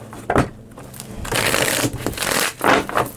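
Tarot cards are shuffled by hand in close, crisp bursts: a quick riffle, a pause, then longer rustling runs and a final flurry, with no talk.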